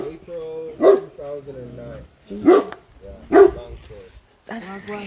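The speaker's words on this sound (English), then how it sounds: "Guys, look at the dogs." Dogs bark in several sharp bursts on an outdoor trip in Germany, each bark loud and close, while people keep talking throughout.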